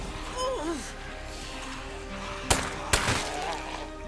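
Two sharp gunshots crack out in State of Decay 2, a zombie survival game, spaced about half a second apart and standing out clearly over steady background game ambience.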